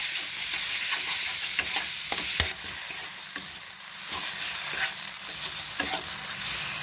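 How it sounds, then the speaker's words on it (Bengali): Spice masala being stir-fried with salt in a pan for chicken Mughlai bites, a steady close sizzle and hiss with repeated scraping and clinking of the spatula against the pan, no voices. "নুন দিয়ে দিচ্ছি, দিয়ে মশলাটা ভালো করে কষে নেব"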